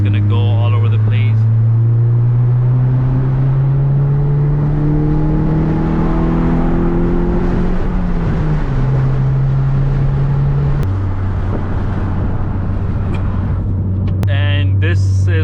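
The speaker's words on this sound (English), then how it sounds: "And this is what the car basically sounds like with all the windows up. You know, you can still hear the exhaust." Inside a manual Mazda 3 with the windows up, the engine and exhaust drone steadily as the car accelerates, pitch climbing through a gear, dropping at shifts, then holding a steady cruise with road noise throughout.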